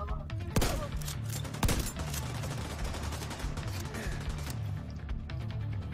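Gunfire in the video game The Division 2 fills the scene, with two sharp, loud shots standing out over dense, continuous bursts and crackling weapon fire.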